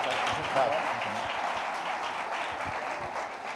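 A church congregation claps together during a Sunday celebration service, a dense wash of applause that stays level for a few seconds with a voice speaking over it.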